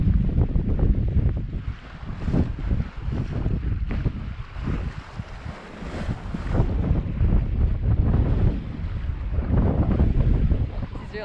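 A sailboat heels close hauled under full sail, with loud wind rushing across the microphone and waves washing against the hull in a continuous, surging roar.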